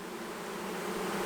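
Honeybees buzzing around a hive during swarm season, a close, steady, dense hum with no pauses or voices.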